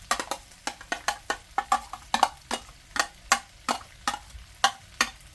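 Onions frying in a pan while being stirred briskly, a rhythmic run of sharp spatula scrapes and clicks over a soft sizzle, close and clear with no talking.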